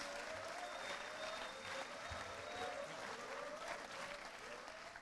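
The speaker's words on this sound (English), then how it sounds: "Let's give a round of applause for the men and women" An audience at a graduation ceremony applauds for veterans, sustained clapping from many people at a moderate distance, with a little faint talk mixed in.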